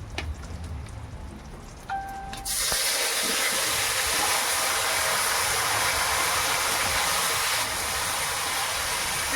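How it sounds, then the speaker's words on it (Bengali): Marinated meat is dropped into hot oil with whole cumin, a dried red chilli and a bay leaf, setting off a sudden loud hiss that carries on as a steady sizzle, after a faint clink. "এবার মেখে রাখা মাংস দিয়ে দেবো।"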